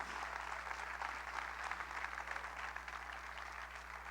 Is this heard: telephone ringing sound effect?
no